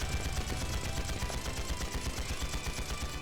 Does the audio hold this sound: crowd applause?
no